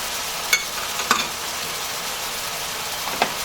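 Minced garlic, chopped scallions, diced onions and green seasoning fry in a pan with a steady sizzle, and three sharp utensil clacks stand out against it.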